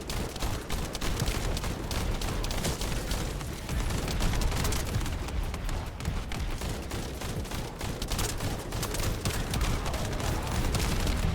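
Sustained weapon fire and bombardment in The First Descendant, a dense, continuous barrage of rapid shots and booming impacts filling the whole stretch without a break, loud and close.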